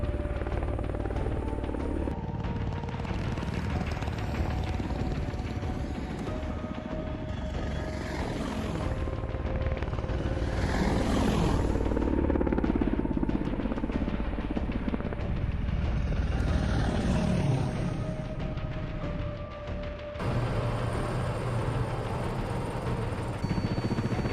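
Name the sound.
helicopters in large-scale heli assault, video game Broken Arrow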